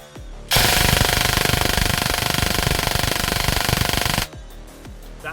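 Brushless motor in an airsoft gearbox running under a torture test, a loud, steady rapid-fire mechanical chatter lasting about four seconds with an abrupt start and stop, surrounded by a quieter motor hum.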